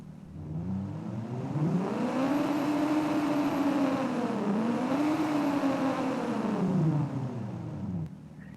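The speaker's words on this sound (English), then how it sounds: "he's literally driving as he's watching the car move down the road. He's literally throttling this program" A synthesized car engine for a top-down driving game revs up, holds, dips briefly, then climbs again before cutting off, a smooth continuous whine with no voices.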